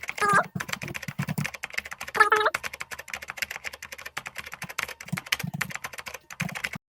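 Rapid keystrokes on a computer keyboard as a password is typed, a dense run of close, crisp clicks with short pauses, while someone talks briefly at the start and in the middle.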